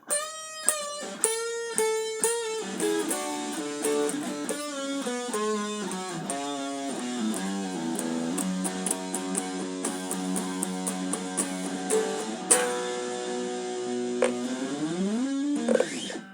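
Electric guitar plays the closing phrase of a solo in a lesson setting, a continuous run of sustained, bending melodic notes with some distortion, played alone at steady moderate loudness.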